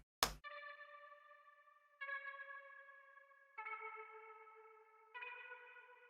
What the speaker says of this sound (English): the kind of chorus reverb, some other guitar